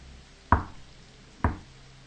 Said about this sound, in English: The knocking repeated, more insistent this time.